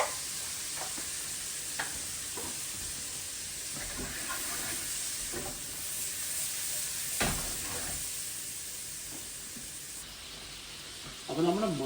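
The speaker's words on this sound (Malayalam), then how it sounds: "So 200 gram mushroom, base mushroom, we need to saute in the butter." Two hundred grams of mushrooms sauté in butter in a hot pan, a steady close sizzle and hiss with occasional scrapes and knocks of a stirring utensil, and a brief voice at the very end.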